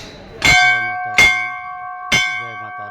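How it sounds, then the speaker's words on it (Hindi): A temple bell at the Bela Devi temple is struck three times at a steady, unhurried pace. Each loud metallic clang rings out bright and close with shimmering overtones, then decays slowly before the next strike. "तो आप सबके नाम से हम घंटी यहाँ बजाए दे"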